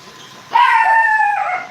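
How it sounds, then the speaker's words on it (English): A dog lets out a single long, drawn-out howling bark close by, rising sharply and holding steady for about a second before tapering off. "there goes the dog barking"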